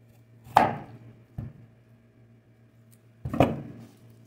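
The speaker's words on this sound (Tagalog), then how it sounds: "nahiwa ko na yung ating mga sayote" A knife chops through chayote (sayote) on a board in a home kitchen, giving two sharp, fairly close cuts with a lighter tap between them over a low steady hum.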